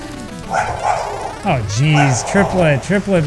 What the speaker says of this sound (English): Sorry about my dog in the background.